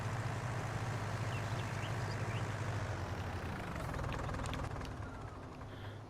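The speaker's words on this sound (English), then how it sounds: "we'll drive this tractor, park this tractor back up" A tractor engine idles in Farming Simulator 19 on a Polish farm map, giving a steady low rumbling drone with faint mechanical clatter that continues throughout at moderate volume.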